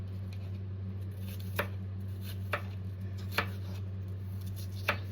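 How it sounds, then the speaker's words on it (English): Four sharp, evenly spaced knife strikes as onions are chopped into tiny pieces on a board, each one a crisp tap over a steady low kitchen hum, close by with no talking. "And I just take these and cut them into tiny even pieces."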